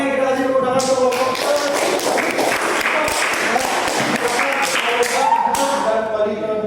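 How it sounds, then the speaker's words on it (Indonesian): A classroom of students claps together for a student group, dense overlapping hand claps ringing out loud and steady for several seconds, with faint voices mixed in. "Oke, kita kasih tepuk tangan untuk kelompok."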